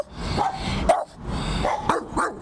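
Dogs up for adoption in a shelter bark repeatedly, loud and close, several overlapping barks and yelps ringing out over a constant noisy, echoing background, with no talk.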